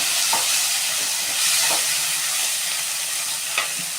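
Tomatoes sizzle as they go into a pan of golden fried onions, with a steady frying hiss throughout and a few sharp scrapes of the stirring spoon, close and alone without any talking.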